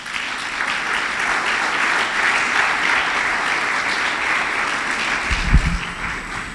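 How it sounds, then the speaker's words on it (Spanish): A church congregation gives an offering of applause to the Lord during a sermon, a steady wave of many hands clapping, with a brief low thump near the end. "¿Quiere darle una ofrenda de palmas al Señor?"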